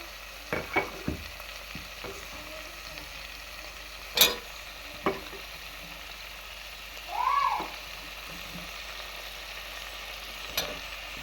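Eggplant and raw peanuts frying in a pan for a village-style kara kuzhambu, with a soft steady sizzle, scattered stirring clicks and scrapes, and a brief meow-like sound partway through. The whole thing is close and quiet, with no talk.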